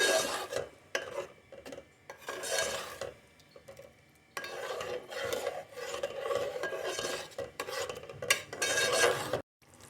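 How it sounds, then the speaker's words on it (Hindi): Masala spices being stir-fried in a pan for a fish curry, close rhythmic scraping and rubbing of a spoon against the pan with a faint sizzle underneath, pausing briefly near the end. "दो से 3 मिनट आपने अच्छे तरीके से मसाले की भुनाई कर लेनी है।"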